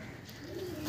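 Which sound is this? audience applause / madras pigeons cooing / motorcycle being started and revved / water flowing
madras pigeons cooing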